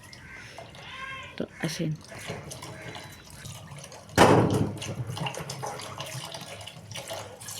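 Tap water runs steadily while cucumbers are scrubbed clean in a kitchen sink, close and moderate, with a louder splash midway as the stream hits the vegetables, and someone speaks briefly over it.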